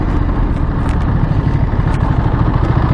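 A Ducati Monster motorcycle engine lugs in the wrong gear, a loud, close, rough low-pitched thrumming with uneven pulsing clatter that stays steady throughout, no voices over it.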